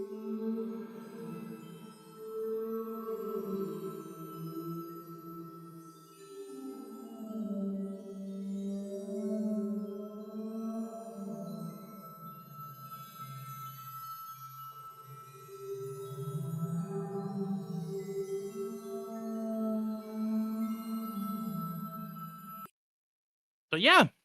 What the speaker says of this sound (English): you can hear the whales in the chest if you are looking for them